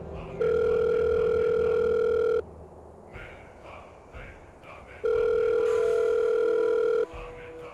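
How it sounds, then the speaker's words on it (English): A steady telephone ringback tone sounds twice in a World of Warcraft machinima, each long electronic beep lasting about two seconds with a quiet gap between, and faint voices and noise fill the pause. "Okay, that's it, I'm calling Lawrence again."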